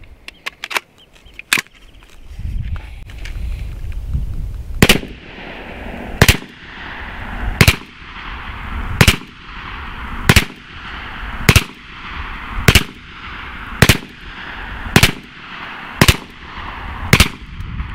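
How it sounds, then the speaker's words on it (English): A BinTac T9 airgun with an extended stick magazine fires sabot rounds, heard as sharp, close cracks evenly spaced about a second apart in a long, regular series, each followed by a short ringing decay. "we dispensed 22 sabot round projectiles from this T9 with no stoppages whatsoever"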